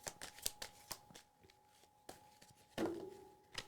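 Playing cards are drawn and laid face down during a card reading, giving a close run of crisp snaps and quick slides with short pauses between them, followed by one longer scraping sweep.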